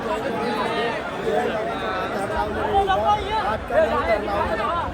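A dense crowd chatters and shouts at a Ganesh idol arrival procession for Chintamani, many overlapping voices close by in a continuous babble.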